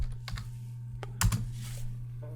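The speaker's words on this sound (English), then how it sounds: "To run this, all we do is type in rake and then minify." Keys clack on a computer keyboard as a short command is typed, a handful of close, crisp taps at an uneven pace over a low steady hum, with no talking.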